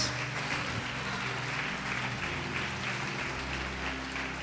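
Church congregation applauding together in worship, a steady dense wash of clapping sustained throughout at moderate level, with low music or organ tones underneath.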